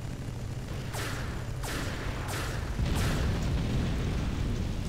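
Turrets fire in the vehicle combat game Hard Truck Apocalypse, sending out a rapid series of four or five whooshing blasts and booms over a dense, rumbling background. The shots are loud and close, with no speech.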